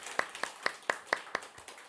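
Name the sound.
applause welcoming a church member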